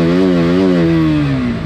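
A KTM motorcycle with a BS4 engine revs in a loud, close, steady drone that holds briefly and then slides down in pitch as it eases off, with no talking.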